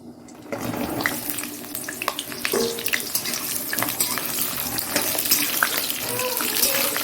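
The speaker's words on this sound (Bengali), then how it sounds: "পটলগুলো দিয়ে দিলাম আর পটলগুলো ভাজা হোক একটু হালকা হালকা করে" Pointed gourd (potol) frying in oil with fenugreek seeds and dried red chili, a crackling sizzle mixed with watery splashing and clattering, with faint voice-like sounds in the background.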